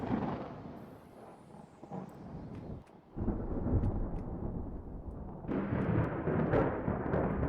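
Rumbling thunder from a lightning storm in the naval battle game Ultimate Admiral Dreadnoughts, a steady low roar with a brief dip midway before swelling louder again, no voices.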